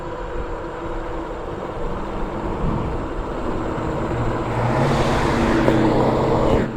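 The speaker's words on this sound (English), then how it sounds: "There's another car coming." A car engine hums nearby and swells as another car approaches and rolls past a rider on a Revr V5 Pro electric bike, the road noise growing louder toward the end.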